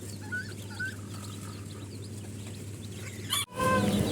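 Fancy chicken chicks of different ages, from about eight to seventeen days old, on a hobby poultry farm, giving a few short soft calls over a steady low background hum, ending in a brief louder burst.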